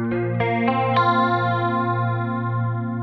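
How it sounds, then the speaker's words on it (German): Clean guitar chords through a 70s Chorus effect on a Line6 Helix ring out in stereo, a few strums in the first second then a long shimmering, wavering sustain, close and alone. "es gibt interessanterweise auch schon ein 70s Chorus"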